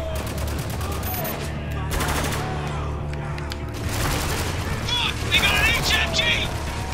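Gunfire and explosions in the Spec Ops: The Line video game, bursts of automatic shots and booms mixed with shouted in-game voices and music, loud and busy.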